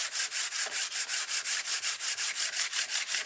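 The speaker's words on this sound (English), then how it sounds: "Give everything a nice smooth sand" Wooden model aircraft wing parts are hand-sanded in a steady rhythm of close, raspy back-and-forth strokes, about five per second, with no voices.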